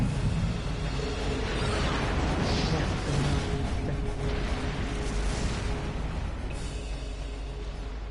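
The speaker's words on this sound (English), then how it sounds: "Just the sound of the artillery firing is enough to make you start pushing." Artillery firing during a military exercise in the game Trails of Cold Steel, a dense, continuous roar of distant booms and rumbling explosions, loud and sustained with no clear gaps.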